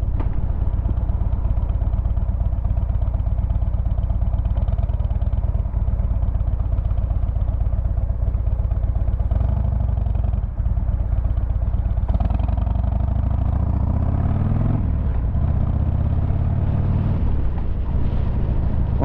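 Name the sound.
motorcycle test ride after front suspension spring upgrade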